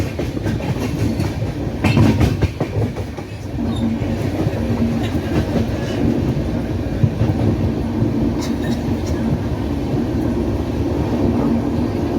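The Puri–Sealdah Duronto Express picks up speed along the rails with a steady low roar and clickety-clack, its motion sustained and loud throughout.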